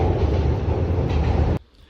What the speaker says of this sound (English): a train just passed by and made a lot of noise